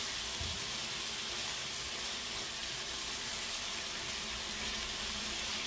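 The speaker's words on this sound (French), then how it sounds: "on fait revenir les oignons" Onions sizzle steadily in a frying pan as they cook until golden, a continuous close hiss with no talking over it.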